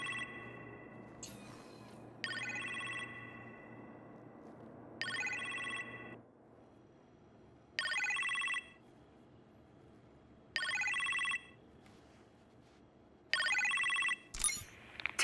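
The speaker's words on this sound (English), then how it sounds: "You appear to have a phone call in the kitchen, sir." A synthetic phone ring in the game Marvel's Iron Man VR repeats in regular bursts about every three seconds, clear and electronic, over a quiet low hum that drops out midway.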